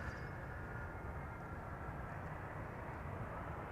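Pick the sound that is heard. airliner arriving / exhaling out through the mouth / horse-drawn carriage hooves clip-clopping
airliner arriving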